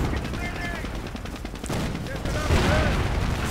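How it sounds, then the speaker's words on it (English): Gunfire from a Pershing tank in a real-time strategy battle game: repeated cannon shots and bursts of battle fire under an ongoing commentary voice. "The Pershing just keeps firing and the Grenadier squad is down."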